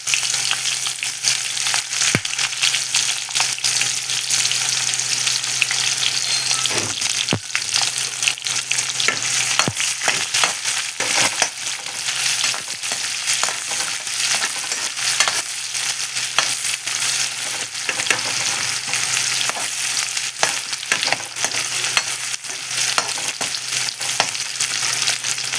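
Onions fry steadily in a pan for a long stretch, a loud continuous sizzle broken by the scrape and clatter of stirring, with no talking.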